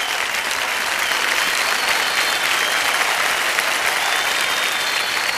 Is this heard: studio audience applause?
yes